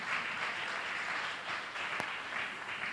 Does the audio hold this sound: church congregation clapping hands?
yes